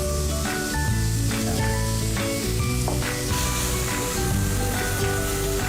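Garlic sautés in a hot pan as the first step of dinuguan, cooked before the onions, giving a steady, close, continuous sizzle over a tonal background.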